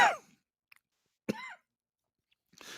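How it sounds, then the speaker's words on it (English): A person coughs several times in short, separate bursts: one harsh cough at the start, a throatier cough in the middle, and a rougher one at the end, close to the microphone with quiet gaps between. "I don't know why I'm coughing."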